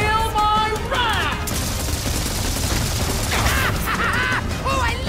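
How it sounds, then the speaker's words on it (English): Rapid booming cannon fire in the video game Skylanders Imaginators on PS4, dense overlapping blasts with whistling streaks, loud and continuous. "Oh, I love the sound of cannon fire!"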